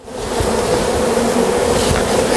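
Honeybees from an exposed nest inside a wall between studs buzz loudly and continuously, a dense, close swarm drone that never lets up.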